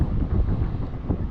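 Wind buffeting a microphone outdoors on a cold day beside a food truck at a basketball tournament in White Deer, a loud, steady low rumble with gusty swells and no speech.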